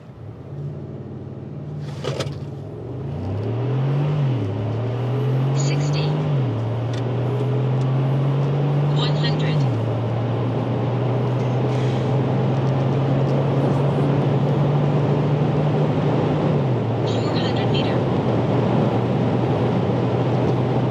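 A 2024 Mercedes G500 W463 accelerates hard from a standstill through a quarter-mile run, its engine climbing through several gear changes and then holding a steady, loud drone with wind and road noise, no talk.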